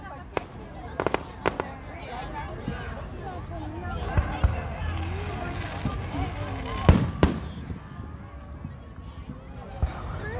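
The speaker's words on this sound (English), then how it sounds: "These are the double colored fireworks." Fireworks, including double-colored shells, pop and crackle in scattered sharp bursts at a Fourth of July show in Manlius, New York, some loud and near, while people talk and children chatter in the background.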